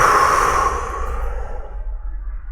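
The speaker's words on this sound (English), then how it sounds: "Несколько раз глубоко дышите." A person takes a deep breath in through the nose and slowly lets it out, a close, breathy rush that fades away over a couple of seconds.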